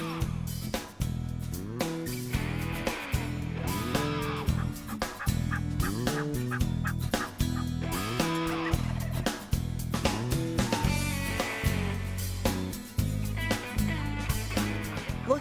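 Wild turkeys gobble repeatedly in a field, loud and dense, with overlapping calls and rhythmic clatter filling the whole stretch and no pause.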